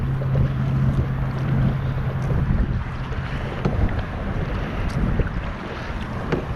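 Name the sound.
wind noise while kayaking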